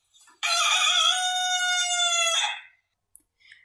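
A single rooster crows once, loud and close, in one sustained call lasting about two seconds against near silence.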